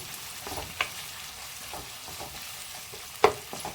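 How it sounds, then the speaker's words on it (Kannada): Onions fry in a pan during a mushroom and egg curry, a soft steady sizzle broken by light scrapes and two sharper clinks of the spoon against the pan, close up with no talk. "ಸ್ವಲ್ಪ ನಮಗೆ ಆನಿಯನ್ಸ್ ಎಲ್ಲ ಸ್ವಲ್ಪ ಕಲರ್ ಚೇಂಜ್ ಆಗಬೇಕು, ಅಲ್ಲಿವರೆಗೂ ಸ್ವಲ್ಪ ಫ್ರೈ ಮಾಡ್ಕೊಳ್ಳಿ."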